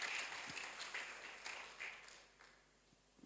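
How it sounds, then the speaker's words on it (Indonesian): Congregation applause at a Thursday church service, a dense wash of clapping that starts loud and gradually fades over a few seconds. "Tepuk tangan bagi Yesus Tuhan kita."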